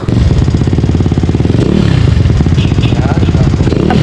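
A Mio Sporty scooter fitted with a stainless exhaust pipe idles and revs up close, a loud, rapid throbbing putter with rising and falling engine pitch, continuous throughout.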